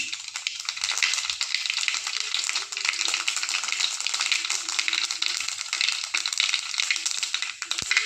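Sliced onions frying in hot oil after mustard seeds have spluttered, a loud, dense, continuous sizzle close up with faint crackles and one brief sharp knock near the end.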